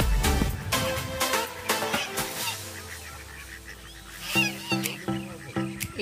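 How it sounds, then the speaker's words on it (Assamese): Ducks call in a short burst of loud, overlapping honking quacks near the end, heard outdoors at the edge of Borpukhuri pond in Sivasagar during a morning walk, with earlier mixed ambient noise. "এয়া শুনিছেনে হাঁহবোৰৰ মাত?"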